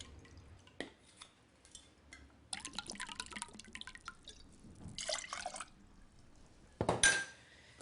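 Soy sauce and rice vinegar poured into a dish: quiet, sparse trickles and drips with a couple of brief splashy pours and a glassy clink near the end, close and faint.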